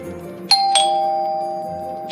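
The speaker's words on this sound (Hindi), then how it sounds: "बहू घंटी बज रही है" A loud doorbell chimes twice in quick succession and rings again, its tones hanging clearly over a quiet background.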